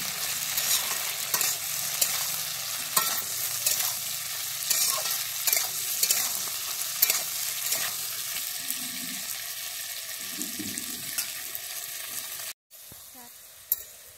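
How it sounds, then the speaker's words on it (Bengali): Ridge gourd pieces frying in a pan, a steady sizzle with intermittent spatula scrapes and stirring knocks, a brief cut near the end before the frying resumes. "আমি ঝিঙেটা দিয়ে ভালোভাবে ভেজে নিচ্ছি।"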